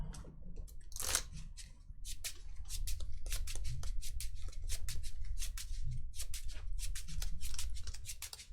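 A deck of Keyforge cards is shuffled at a tournament table: quick, close, crisp flicking and snapping in repeated bursts, fairly quiet and with no talk over it.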